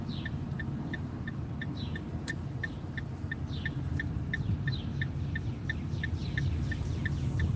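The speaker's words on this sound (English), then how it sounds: "Hear the birds chirping." Small birds chirp in a steady, repeated rhythm over a constant low rumble of city traffic in Baltimore.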